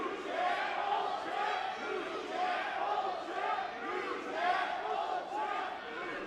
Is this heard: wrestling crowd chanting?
yes